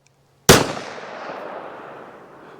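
A single sharp gunshot from a Walther WMP pistol with a 4.5-inch barrel, firing .22 WMR ammunition, cracks loudly and close, then its echo trails off slowly over the following two seconds.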